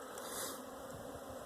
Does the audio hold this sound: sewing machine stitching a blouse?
no